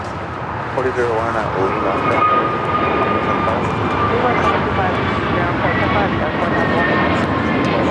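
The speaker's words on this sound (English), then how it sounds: "The flight taking off, heading to Charlotte." Delta airliner taking off at LAX, a loud sustained jet roar with whining engine tones, while radio chatter and voices talk over it.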